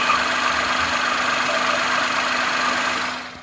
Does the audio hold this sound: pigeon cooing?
no